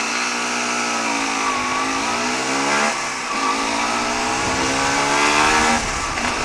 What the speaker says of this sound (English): I'm trying to keep the engine noise down